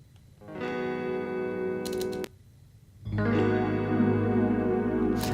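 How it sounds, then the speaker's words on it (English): Slow strums of guitar strings processed with effects for a glitch hop track, two sustained chords each ringing out with bright upper overtones, separated by a short gap. "Then same concept with the guitar, so I strummed the strings slowly."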